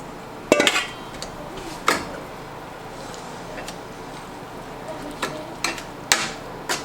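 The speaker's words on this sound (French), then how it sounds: "on va brasser notre sauce et on va verser la sauce sur notre combinaison d'haricots" A spoon stirs a molasses sauce, which is then poured over a mix of beans for baked beans meant for pressure canning. Sparse metallic clinks and knocks against the pot sound close by, with quiet scraping between them.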